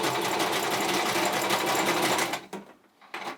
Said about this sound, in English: I'm using a zigzag stitch at this point